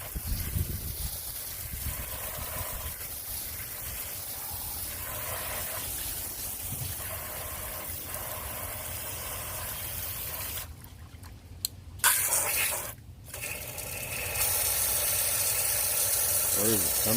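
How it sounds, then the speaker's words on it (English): Garden hose spraying water over a muddy truck, a continuous hiss of spray with a few brief breaks and a louder, harsher stretch near the end. "then I usually hose it off"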